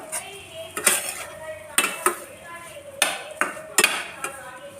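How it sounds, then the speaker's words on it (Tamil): A spoon clinks and scrapes against a metal pot while garlic rice is mixed with a few drops of lemon juice, giving a series of sharp, close clatters in an irregular rhythm, with no voice present. "இதை ஒன்றா நல்லா அழகாக கலந்துடணும்"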